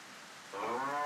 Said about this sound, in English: Hope you guys like the stock cattle sound effects,